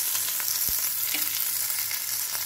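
Rendered bacon fat fries steadily in a pan, a dense continuous crackle and hiss, with a few soft low knocks of a utensil stirring against the pan and no voices.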